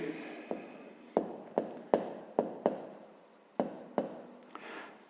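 A hand writes out a fifth-grade math exercise, producing a steady series of short, scratchy strokes at close range. The strokes come in quick repeated bursts with no talking.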